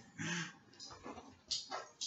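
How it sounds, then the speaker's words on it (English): A pet dog at home gives soft whimpering yips and whines in short bursts, fairly quiet and close, mixed with low background talk. "That's my other dog, Jonathan."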